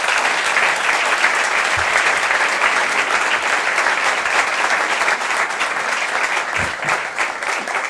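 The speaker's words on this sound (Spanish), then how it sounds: "que sea nuestro aplauso la muestra del merecido respeto y admiración" Sustained, loud applause from a large crowd at an award ceremony, a dense continuous clatter of clapping that holds steady throughout.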